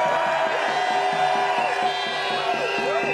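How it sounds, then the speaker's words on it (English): Crowd noise at an anti-lockdown protest in Manchester, a dense continuous roar of voices with cheering and shouts, steady and loud throughout. "So let's cheer for those politicians now."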